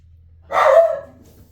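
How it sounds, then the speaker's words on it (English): A single dog bark, loud and close, bursting out once after a quiet pause and trailing off quickly, with a low steady hum underneath. "Dramatic bark."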